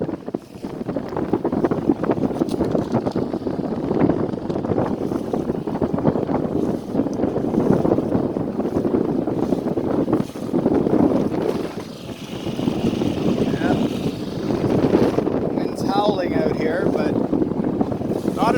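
A small 4hp outboard motor drones continuously as it pushes a sailboat along, with wind buffeting the microphone throughout and a voice briefly audible near the end.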